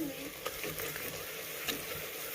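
Garlic sizzles in a pan as it browns toward golden, a close, steady frying hiss broken by a few brief stirring scrapes.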